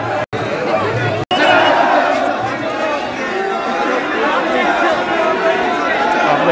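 A large crowd of devotees gathered at a samadhi fills the air with loud, dense chatter and babble, a continuous hubbub of many voices close by.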